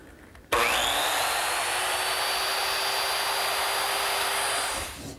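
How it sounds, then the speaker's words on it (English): A circular saw set to a 3/4-inch depth cuts a tenon line along a redwood arch, starting with a sharp onset and then a steady, loud, high whine of blade in wood that holds for about four and a half seconds before tapering off. "The first step is along this line with the saw set at a depth of 3/4 of an inch."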